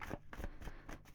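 A tarot card deck is shuffled in quick, close riffling bursts, several rapid rustles in about a second, with no voice over them.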